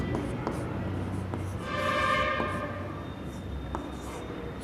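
Pen or chalk scratching out a math formula by hand during a coordinate geometry lesson on collinear points, soft steady strokes with light taps, fairly close and quiet.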